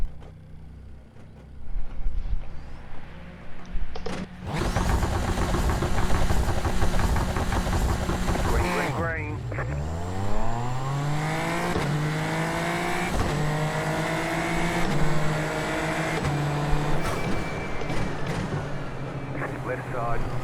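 A Super Formula Lights single-seater in the iRacing simulator at the Austria circuit: a loud, steady engine drone that drops at about nine seconds, then climbs through the gears again. A driver talks over it.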